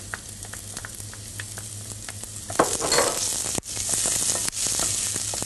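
Chilli and garlic sizzle steadily in a hot pan for a vegetarian chilli, with a spoon stirring and scraping through them in repeated close strokes. The frying hiss swells in the middle of the clip. No one speaks.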